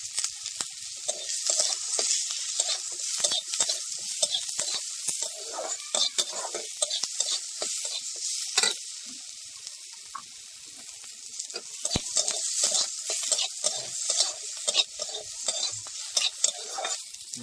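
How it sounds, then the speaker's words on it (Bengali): Whole cumin frying in oil in a pan produces a close, continuous crackling sizzle, with frequent scraping stirs and occasional clinks of a utensil on the metal. "একটু হালকা করে ভেজে নেব। গোটা জিরে দিয়ে দেবো।"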